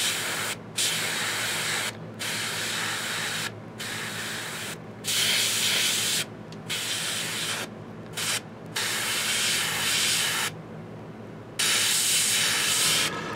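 An airbrush sprays skin-tone paint onto a Reaper Hill Giant Lowland Warrior miniature in repeated bursts of sharp, close hiss, separated by brief silent pauses.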